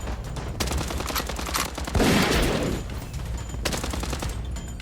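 Rapid automatic gunfire from the online shooter game Blood Strike, loud and close, with sustained bursts and a heavier cluster of shots near the middle.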